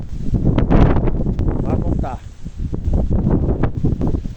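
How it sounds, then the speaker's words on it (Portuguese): Strong wind buffets a microphone outdoors near a forest, making loud, continuous rumbling and rushing gusts. Someone speaks briefly over it. "O vento aqui tá forte, forte, forte, forte."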